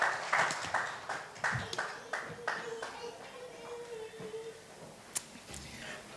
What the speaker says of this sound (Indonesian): Tepuk tangan sekali lagi saudaraku.